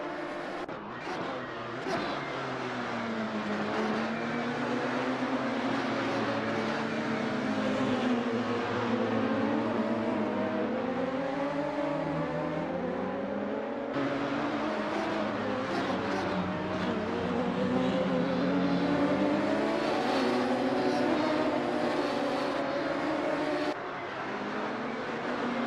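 Radical SR3 race cars lapping the Magione circuit, two running nose to tail in the slipstream down the back straight; a continuous, loud engine drone whose pitch rises and falls as they shift and accelerate, with faint commentary beneath.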